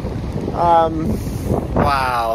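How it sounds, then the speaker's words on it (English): Gusty wind buffets the microphone in rumbling bursts on a forest hiking trail while a person speaks a brief exclamation over it. "It is very windy"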